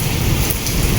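Rain mixed with small hailstones pours down in a dense, steady, close hiss of drops striking surfaces, with no voices.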